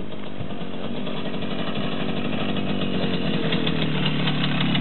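A Romet Pony motorcycle rides up with a steady, buzzing small engine note that holds loud and close throughout and grows slightly stronger toward the end, with no clear stop.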